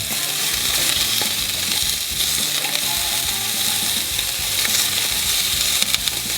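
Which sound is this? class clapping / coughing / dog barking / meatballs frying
meatballs frying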